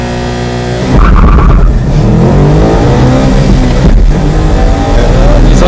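A Subaru Impreza runs hard on a track with its driver's control differentials switched off, the engine loud and sustained, revving and straining with tire noise mixed in, while a voice talks over it throughout.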